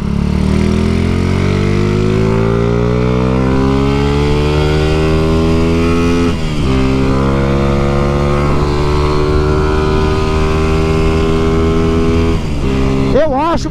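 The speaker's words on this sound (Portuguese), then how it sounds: "As molas de válvula da minha moto, eu acho que ela tá com algum BO, mano." Honda Titan 150 motorcycle engine droning steadily at highway speed with suspected faulty valve springs, a loud continuous harmonic hum whose pitch rises slowly then dips at gear changes, with wind rush and no talk.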